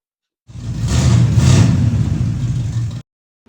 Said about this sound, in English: get this at least out in the driveway, give it a few revs and get it going